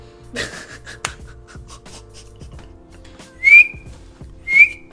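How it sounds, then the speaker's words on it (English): A person whistles a few short notes while drawing breath in, with two sharp, loud high-pitched tones standing out after quieter fluttering attempts. "this is me whistling blowing in"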